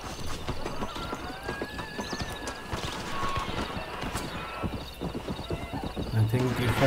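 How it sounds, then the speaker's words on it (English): Video game horse hooves clop rapidly over a busy, noisy background with a horse whinnying, while a voice talks throughout; from Red Dead Redemption. "I'm killing the horse."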